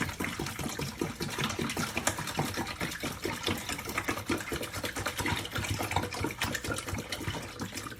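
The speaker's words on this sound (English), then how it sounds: "I'm going to pour my gallon of cold water" A gallon of cold water pours steadily into a disinfectant container for barbering tools, a continuous close splashing gush with no pauses and no talk.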